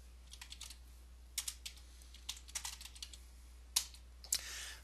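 Typing the shutdown command on a computer keyboard during an Ubuntu Server install: scattered, faint close keystrokes in short irregular bursts, with no talking.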